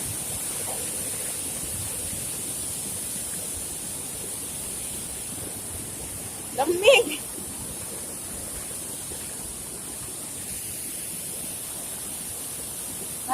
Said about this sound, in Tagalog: Nakakatakot yung tubig guys kasi malakas yung babagsak.